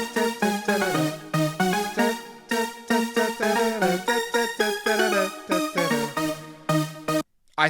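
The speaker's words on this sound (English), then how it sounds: "I've added these super saw layers that sound like this." Layered supersaw synth chords from an electronic track's breakdown, rhythmic stabs with dense bright harmonics pulsing in a steady chopped pattern, loud and alone, ending with a brief dropout.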